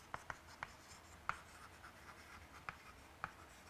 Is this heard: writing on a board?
yes